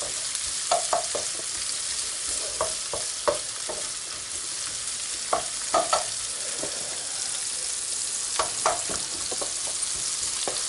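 Squid sizzles in olive oil in a pan, a steady crackling fry punctuated by clustered sharp pops and the clatter of stirring.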